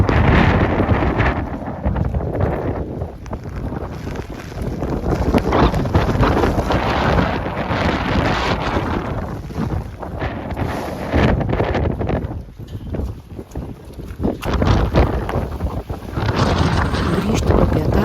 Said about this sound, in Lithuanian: Vėjas tik stiprėjo